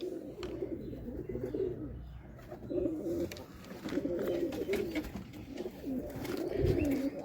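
Domestic pigeons coo in low, repeated throaty phrases from close by while one bird sits brooding its eggs in a loft, the soft rolling calls coming in several bursts with brief pauses between.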